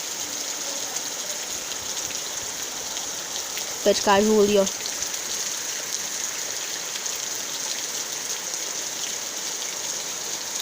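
Steady rain falling on a rural smallholding with green woods and watermelon plants, a constant hiss throughout, with someone speaking briefly over it partway through.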